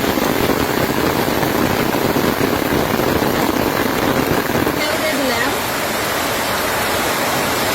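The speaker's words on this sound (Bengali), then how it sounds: "বাইরে বৃষ্টি নামছে, প্রচুর বৃষ্টি," Heavy rain pours outside a home kitchen, a steady, dense broadband roar that stays constant throughout, softening slightly toward the end, with no voices.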